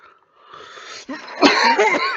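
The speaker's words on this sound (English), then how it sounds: "I got a little bit of a cough" A close, harsh cough bursts out after a quiet breathy start, followed by rough throat-clearing sounds.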